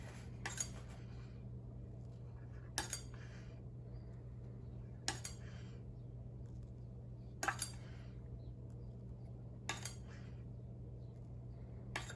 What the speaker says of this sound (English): I'm gonna bring all of the edges in and scrape every single time